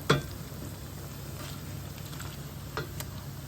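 Hanukkah latkes frying in a pan, a soft continuous sizzle with a sharp scrape or tap at the start and another near the end.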